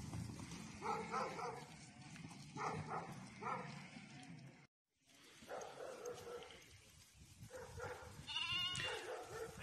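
A flock of domestic sheep heading out to pasture, bleating repeatedly at close range, with a short break in the middle and louder bleats toward the end.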